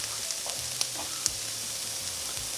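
Mango and prawns simmer in hot oil for a Godavari-style curry, giving a steady close sizzle and frying hiss with a few faint stirring clinks.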